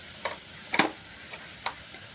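Spice paste with turmeric and coriander cooking in a pan as a ladle works it, a few soft scrapes and taps spaced out over a faint background sizzle, close and fairly quiet with no talking.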